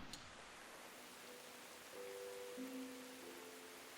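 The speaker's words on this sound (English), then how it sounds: "It's a beautiful stormy day. Nothing better than walking in the rain." Steady soft rain hiss in the video game Tales of the Shire fills the background, with faint tonal hums drifting in and out beneath it.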